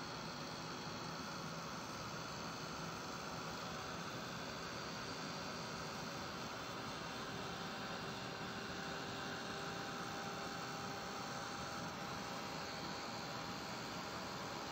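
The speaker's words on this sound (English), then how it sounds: "So to heat it up, I'm going to take my little heat gun." A steady, loud blowing roar of a small heat gun used for cardmaking runs without a break, a dense broadband rush with a faint whine on top, constant in level throughout.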